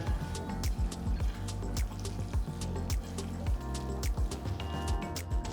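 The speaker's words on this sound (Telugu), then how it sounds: "ఒక పావు కప్పు నీళ్లు పోసి మసాలాని బాగా ఉడకపెట్టాలి" Water poured into potato masala in a hot pan, with wet squishing and bubbling, repeated soft sloshing pulses and sizzling crackles, close and fairly quiet.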